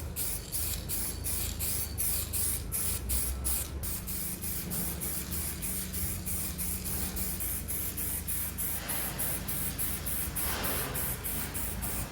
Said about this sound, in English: now it's time to spray